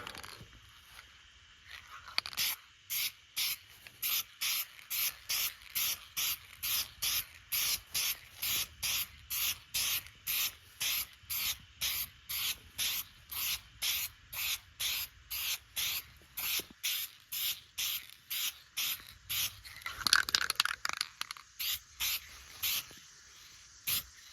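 A spray gun fires rapid, evenly spaced hissing bursts, dozens in a row and close up, while the final coat of paint goes onto a Dodge Dakota truck.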